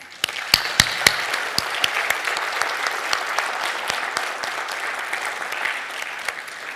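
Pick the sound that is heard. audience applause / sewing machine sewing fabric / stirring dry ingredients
audience applause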